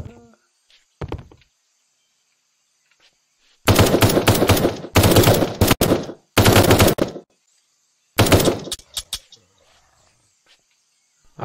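Bursts of automatic gunfire in the co-op shooter game Deadpoly, loud rapid fire in three long stretches back to back, then a shorter burst after a pause, with quiet gaps and faint ambient noise between.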